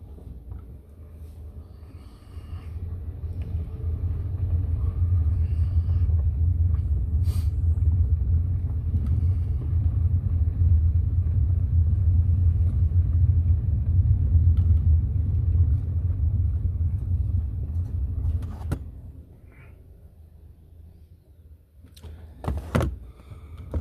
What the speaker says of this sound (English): We got another car coming.